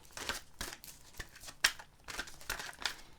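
Oracle cards are shuffled in a quiet, steady series of soft papery swishes and light taps, close and unhurried, with no one speaking.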